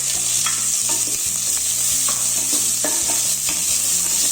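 Sliced onion fries in hot coconut oil for a chicken stew, giving a steady, loud hiss with scattered stirring clicks and scrapes throughout, and no voices.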